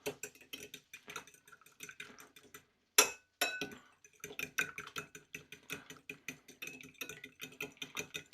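Eggs being whisked in a bowl, a quick steady run of light clinking taps from utensil against the bowl, close and fairly quiet, with one sharper clunk partway through.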